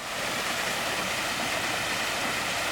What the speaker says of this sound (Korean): HOA에서 관리하는 거 폭포입니다